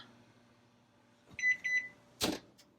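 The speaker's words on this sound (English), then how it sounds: "I'm going to shut the timer off so it's not beeping in your ear" Kitchen timer in a home kitchen while apricot kolacky bake, giving a short run of three high electronic beeps, followed by a sharp click or clatter nearby.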